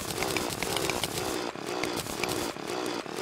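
A drill boring through blocks while mining in Terraria, a loud continuous buzzing whine with slight pulsing dips, close and steady throughout with no talk.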